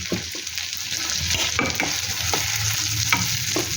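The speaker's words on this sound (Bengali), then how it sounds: "ভালো করে নেড়ে চেড়ে নেব" Chilli chicken with ginger and chopped green chillies being stirred in a sizzling pan, a loud steady frying hiss with a run of spatula scrapes and clicks against the metal, close by, with no voices.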